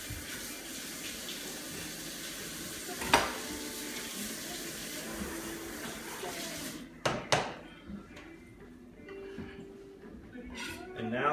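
Water runs from a kitchen tap while chili peppers are rinsed under it for a fresh salsa, a continuous splashing stream with a few sharp clatters near the middle and end, and a voice talking over it.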